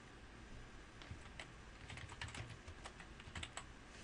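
Fingers type on a computer keyboard while building a table-based web layout in Dreamweaver CS5, a quiet, steady patter of key clicks with a few sharper taps scattered throughout, no voice over it.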